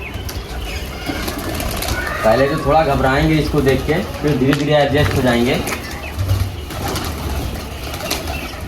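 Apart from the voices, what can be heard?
pigeons cooing and flapping wings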